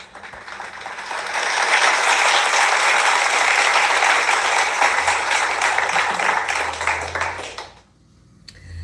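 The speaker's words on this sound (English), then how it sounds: "Let's give it a round of applause." A live audience claps in dense, loud, steady applause for about seven seconds before it stops abruptly, leaving quiet room sound.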